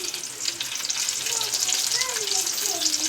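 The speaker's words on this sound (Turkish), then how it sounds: "şu an patlıcanları da az bir yağda kızartmaya çalışıyorum" Eggplant sizzles and crackles steadily in a little hot oil in a pan, close up, with faint stirring and a few quiet voices under it.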